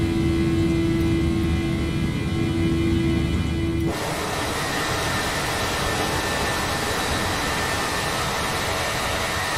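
A United Airbus A319 departs in Microsoft Flight Simulator 2020 with a loud, steady jet engine roar and rumble. A tonal whine drops away partway through and the broadband roar carries on, with no talk.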